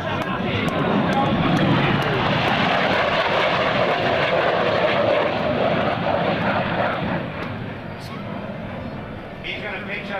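An F-117 Nighthawk jet flies past at a 2004 Joint Services Open House air show, its loud roaring engine noise steady and broad before easing slightly, with an announcer's voice heard over the roar.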